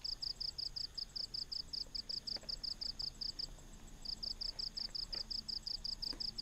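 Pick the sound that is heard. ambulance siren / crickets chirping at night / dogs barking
crickets chirping at night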